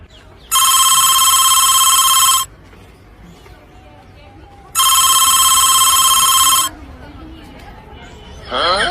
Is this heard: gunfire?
no